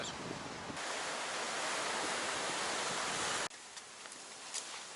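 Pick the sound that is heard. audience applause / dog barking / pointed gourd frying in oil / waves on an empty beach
waves on an empty beach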